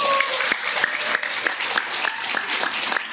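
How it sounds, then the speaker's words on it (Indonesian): At the close of a live religious speech in Ujung Piring, an audience breaks into steady, sustained clapping. Individual sharp claps stand out within the crowd's even patter. "Demikian karena sudah ditutup dengan tepuk tangan."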